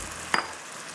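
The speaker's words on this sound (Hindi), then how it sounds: "अब मैं इसमें डाल रही हूँ टमाटर। टमाटर जाएंगे इसमें 3" Blended tomatoes hitting hot oil in a prawn biryani pan with cumin and whole red chillies, one short sharp sizzle burst lasting a fraction of a second over a quiet kitchen background.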